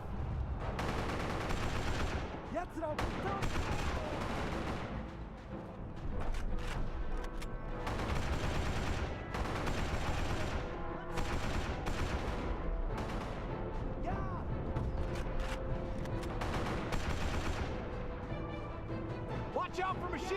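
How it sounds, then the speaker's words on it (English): Machine gun fire rattles through a video game firefight in dense, repeated bursts, loud and close, with other game sounds and a voice talking over it. "Watch out for machine guns."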